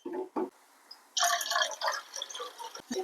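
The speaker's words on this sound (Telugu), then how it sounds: "మెత్తగా పల్చగా వాటర్ పోసుకుందాం." Water poured into thick whisked curd for a brinjal curd chutney, a few short liquid splashes and a burst of glugging pour in the middle, close and fairly quiet, with no speech.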